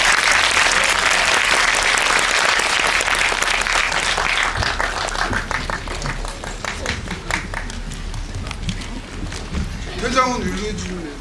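An audience at a film screening Q&A in a Megabox Coex cinema hall breaks into loud, dense applause that gradually thins into scattered claps, with a voice speaking over it near the end.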